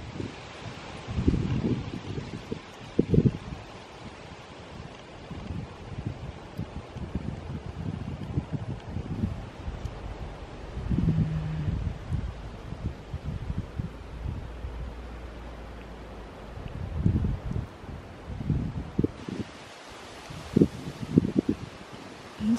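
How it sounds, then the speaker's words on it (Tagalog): Cold wind blows outdoors on a road toward the China border in Pakistan as snow sets in, a low, gusty rush of microphone buffeting and rustling that rises and falls in irregular bursts for over twenty seconds. "Ang sarap na simoy ng hangin,"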